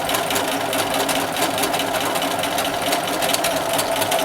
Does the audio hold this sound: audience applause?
no